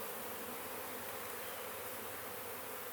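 Honey bees buzz steadily on hive frames, a dense, continuous, close drone of many wings with no voices.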